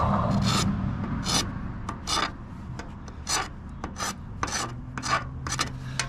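Repeated rasping scrapes as paint is scraped off the metal of an Axelson lathe, a series of short strokes in an irregular rhythm, close and fairly loud over a low background hum.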